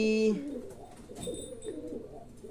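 A short call opens the clip, then soft, low pigeon cooing continues in the background with faint rustling.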